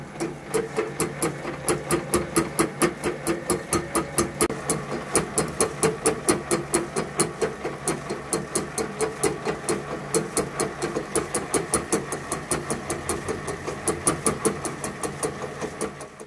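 Lathe boring a cylinder block with the power feed running on the saddle, a steady machine hum with an even, rapid clicking or ticking pulse repeating throughout, close and moderate in level.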